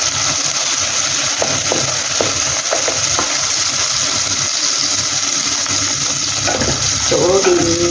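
Tomato, onion and garlic sauté in a pan for ginisang monggo, a continuous loud sizzle with scattered clinks and stirring scrapes, and a louder clatter near the end.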